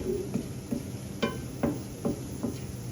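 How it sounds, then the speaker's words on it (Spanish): Onion frying with chili peppers in a pan, a steady background sizzle broken by a few soft stirring scrapes, with no talking. "estamos friendo cebolla con el ajicito, el palillo y el ají"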